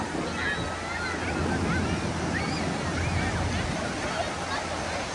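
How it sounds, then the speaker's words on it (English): Ocean waves at a beach wash in as a steady, broad rush mixed with wind buffeting the microphone, loud and close, with a faint murmur of people in the background. "They're also looking at the waves too."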